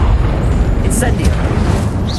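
A fire spell cast in Hogwarts Legacy bursts with a loud whooshing boom over a dense, rumbling wash of combat sound, with a brief bright flare partway through.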